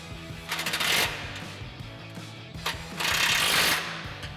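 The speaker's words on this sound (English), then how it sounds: "grab our 13 mil socket and small extension on our impact and go ahead and tighten these down" Two loud, close bursts of an impact wrench hammering as it tightens exhaust hanger bracket bolts with a 13 mm socket on a 2021-2024 Ford Bronco cat-back system, each lasting about a second.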